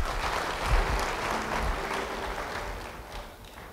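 Church congregation applauding during a sermon, a steady spread of clapping from many hands that holds for several seconds, then slowly thins toward the end.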